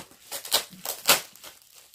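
Opening and unpacking a parcel with scissors: close, bursty rips, crinkles and rustles of packaging and tape, several quick loud tears in a row with brief pauses, no talking.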